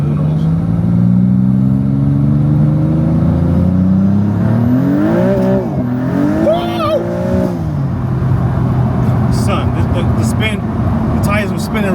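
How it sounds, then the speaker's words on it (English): A car accelerates hard with its tires spinning, the engine climbing loud and close in rising revving sweeps that then fluctuate, while someone talks over the noise. "The tires were spinning real quick."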